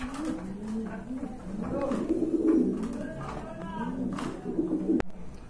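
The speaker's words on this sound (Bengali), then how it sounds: "আরেক জোড়া কবুতর আসছে এখানে" Imported pigeons coo in soft, repeated throaty calls close by, several overlapping through the stretch while a person talks over them.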